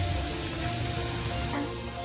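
Potatoes frying in oil, with a steady soft sizzle and crackle that drops away slightly near the end.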